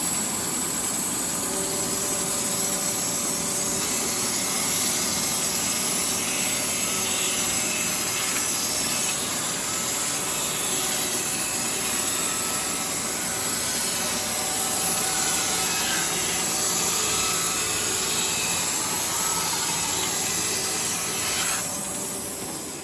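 Cedar wood being cut by a saw set to six, a steady, loud, continuous grinding rasp that runs unbroken without speech until it tails off near the end.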